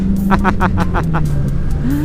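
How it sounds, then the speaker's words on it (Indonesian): Engine noise and wind from a motorcycle riding in morning traffic while it overtakes the car ahead. A steady engine drone is overlaid with rhythmic pulsing bursts, and someone talks over the ride. "kita susul nih mobil di depan pemirsa"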